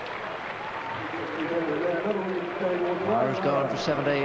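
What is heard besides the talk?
cricket crowd giving a standing ovation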